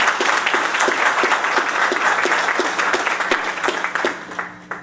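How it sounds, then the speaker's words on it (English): An audience claps loudly and continuously at a campus Veterans Day event, a dense round of applause honoring veterans' families that thins toward the end. "I would like to get applause for the families of the veterans"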